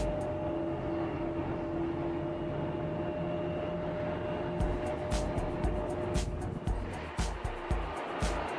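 Airliner engines spooling up during pushback at Matsuyama Airport, a steady whine with tonal hum over broad roar, joined midway by clattering, rhythmic bursts from nearby ground equipment.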